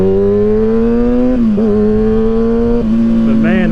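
2012 Kawasaki ZX6R motorcycle with an M4 exhaust, baffle removed, revving up close: a loud, raspy, buzzing engine note climbing in pitch in steady stages.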